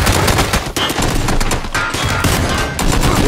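Dense, continuous gunfire from the battle-royale game PUBG, loud bursts of automatic shots overlapping one another with no pauses, sounding close and intense throughout.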